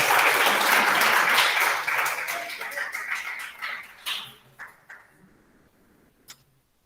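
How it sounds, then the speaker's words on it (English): Audience applause for a performer at a school National Mathematics Day event: a full burst of clapping that thins out into a few scattered, isolated claps before falling silent. "Please give a big round of applause for her."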